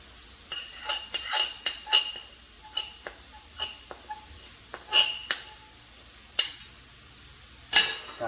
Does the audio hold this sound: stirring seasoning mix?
yes